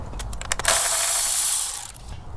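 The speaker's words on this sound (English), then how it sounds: "So I'm just gonna take a 10 millimeter socket and loosen this other clip" A ratchet fitted with a 10 mm socket loosens a clip on a Toyota Land Cruiser FZJ80 engine, with a few quick clicks followed by a loud, sustained hissing burst that fades out.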